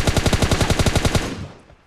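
Rapid automatic gunfire in PUBG Mobile: about a dozen loud, evenly spaced shots in a quick burst, close and punchy, then a ringing tail that dies away.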